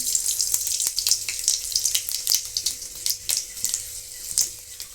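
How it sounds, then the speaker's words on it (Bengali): A dry red chili and five-spice seeds fry in hot mustard oil in a kadai, making a continuous close sizzle with quick popping crackles scattered through it. "কড়াইয়ে দিচ্ছি একটা শুকনো লঙ্কা আর পাঁচ ফোড়ন"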